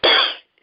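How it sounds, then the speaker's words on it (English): A single harsh cough, close and loud, lasting under half a second, then near silence. "Excuse me for coughing."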